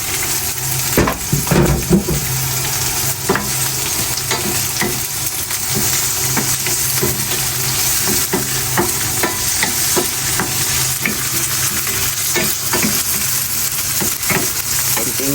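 Onions sautéing in olive oil for chopsuey, a loud constant sizzle close by, broken by frequent scraping and clinks of a utensil against the pan.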